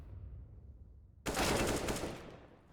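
Counter-Strike gunfire in a competitive match: after a quiet low hum, a sudden loud burst of rapid rifle shots rattles close for over a second, then tails off.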